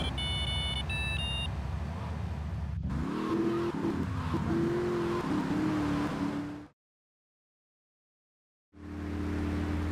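Securicar in GTA III driving into a garage: engine running under short electronic beeps, then a revving, rising engine tone, a sudden cut to silence and the engine droning back in.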